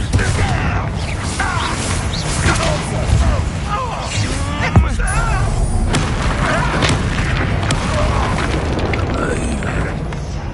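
Repeated fiery spell blasts from the Hogwarts Legacy video game boom over a dense, loud wash of combat noise, with crackling bursts and rumbling impacts running throughout.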